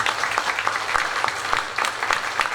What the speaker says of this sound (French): metteur en scène Stéphane Hortel, qu'on peut applaudir s'il vous plaît.